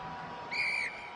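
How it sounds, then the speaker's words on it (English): A referee's whistle at a professional rugby union match between London Irish and Sale Sharks, one short, shrill blast over steady crowd noise in a stadium. "The referee's whistle goes."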